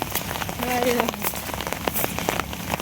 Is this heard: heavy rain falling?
yes